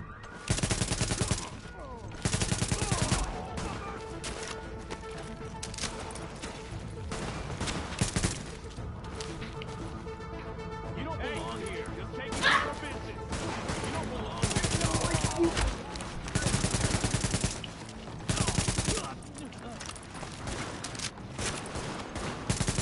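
Rapid bursts of AK assault rifle fire in the video game The Division, loud repeated volleys with short pauses between, continuing through most of the stretch alongside other in-game gunfire.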